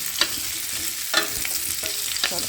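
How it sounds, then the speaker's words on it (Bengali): Potatoes frying in a pan for a vegetarian aloo dum, a constant sizzle broken by several rhythmic scraping strokes of a spatula stirring, no voices. "আলুটা যখন ভালো করে আরেকটু ভাজবো"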